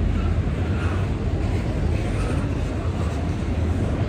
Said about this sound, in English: So look at the train here.